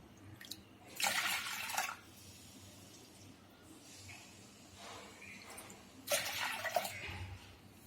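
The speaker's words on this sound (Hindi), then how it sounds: "अभी आपने जितनी दाल ली है उसको 3 गुना आप पानी डाल दीजिए।" Two separate bursts of water pouring into a pressure cooker of dal, each lasting about a second, with quiet pauses between them.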